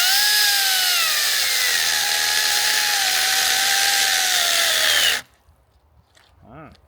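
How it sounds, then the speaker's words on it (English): A mini Makita chainsaw cutting wood gives a loud, steady, high-pitched motor whine for about five seconds, then stalls abruptly into near silence, with a faint brief voice afterward. "round 3, mini chainsaw."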